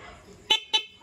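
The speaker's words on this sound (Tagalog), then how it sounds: "Pag bumusina tayo." Two short, sharp horn honks from a Kawasaki TMX 125 motorcycle in quick succession, loud and close, over a faint background rumble.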